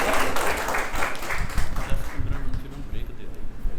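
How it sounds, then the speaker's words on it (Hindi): An audience in a hall applauds the chairman with dense, sustained clapping, with voices mixed in throughout. "big round of applause for chairman sir"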